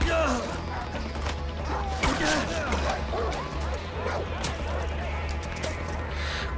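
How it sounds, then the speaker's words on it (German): Aggressive dogs barking and snapping at the player in the video game Far Cry 4, busy yelps and growls blending with game clatter while someone talks over the action. "Oh, die Hunde beißen mir in den Arsch."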